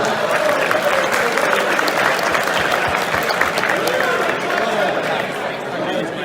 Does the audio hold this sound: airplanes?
no